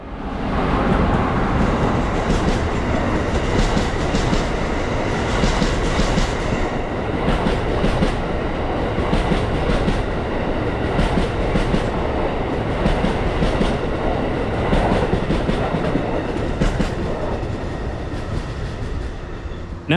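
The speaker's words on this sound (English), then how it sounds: "eastbound Amtrak Regional Train 140 coasting by on Track 2" Eastbound Amtrak Regional Train 140 coasting by on Track 2, a loud sustained rumble with rhythmic clickety-clack of wheels over rail joints and faint squeals, passing close.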